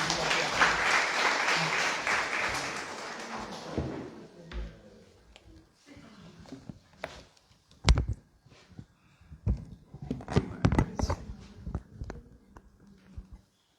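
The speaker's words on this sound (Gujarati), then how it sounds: "એકવાર જોરદાર તાળીઓ સાથે આભાર" An audience at a literary poetry festival bursts into loud applause that fades out after about four seconds, followed by scattered thumps and rustling in the room.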